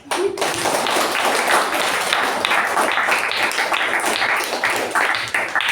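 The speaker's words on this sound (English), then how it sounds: "Let's clap again" A thunderous round of applause fills a meeting room, dense continuous clapping from many hands that stays loud and steady throughout, with no voices standing out.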